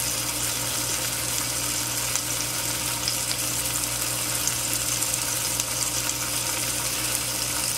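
A kibbeh patty frying in a pan gives a steady, even sizzle with a constant hiss and no pauses, close and fairly loud, with no talking.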